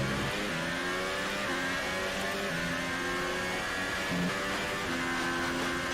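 A Formula 1 race car engine from the F1 2018 video game screams continuously at the US Grand Prix with low-wing setup, the pitch climbing through gears in repeated rising sweeps, loud and steady throughout.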